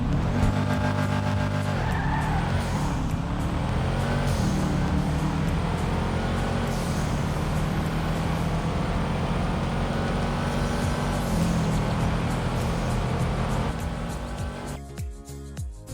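In GTA 5, a Sultan car fitted with engine upgrades accelerates hard with a continuous, loud engine drone that rises through the gears, with tire squeal and skidding mixed in, before the sound cuts out near the end.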